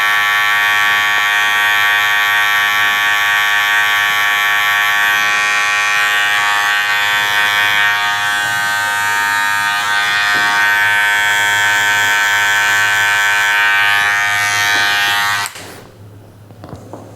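An electric hair clipper, set to its middle lever position, buzzes steadily and loudly while trimming the lower detail of a V-shaped fade haircut. It cuts off abruptly near the end, leaving quiet.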